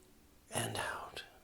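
A deep, audible breath drawn in during a calming relaxation exercise, close and soft, with a whispery airy rush lasting under a second, followed by a brief second puff.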